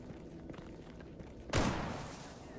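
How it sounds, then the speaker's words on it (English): A single sharp gunshot in the video game Stalker GAMMA cracks out partway through and fades in a rumbling tail over quiet ambient background noise. "Heard gunshots."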